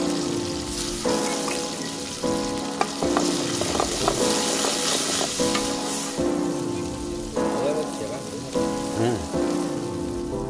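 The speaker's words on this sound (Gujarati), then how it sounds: "ઓરાનો વઘાર" Spices hit hot oil in a desi tempering for an ora dish on a village clay stove, giving a loud crackling sizzle that flares and settles in repeated bursts, with stirring scrapes in between and no voices.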